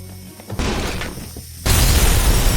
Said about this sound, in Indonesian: Untuk menciptakan gangguan, Travis sengaja meledakkan tabung gas.